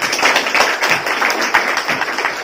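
An audience claps steadily for a featured guest artist at the inauguration of a poetry poster event, with dense, continuous applause carrying through the whole stretch and no talk over it.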